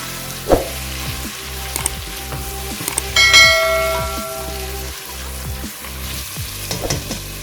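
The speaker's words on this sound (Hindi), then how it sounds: "गोश्त को अच्छी तरह लहसुन, अदरक और प्याज के साथ भूनेंगे" Steady sizzling of mutton frying in a pan with garlic, ginger and onion, with a spoon scraping and clinking against the metal now and then, no voices.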